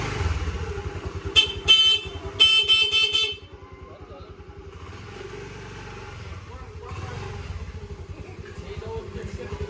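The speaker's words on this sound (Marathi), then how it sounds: "हॉर्न वाजव एकदा." A recently repaired vehicle horn sounds in a few loud, close blasts early on, then gives way to a low running engine and street rumble, with voices talking throughout.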